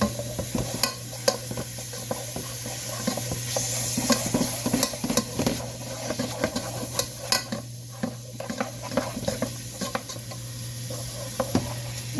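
Diced yellow onion fries in olive oil, a steady sizzle punctuated by frequent scrapes and clicks of a utensil stirring against the pan, close and fairly loud with no talking.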